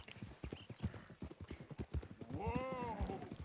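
Horse hooves clip-clopping in the video game Red Dead Redemption 2, a steady rhythmic trot of close hoofbeats with a horse whinnying partway through and someone talking over it.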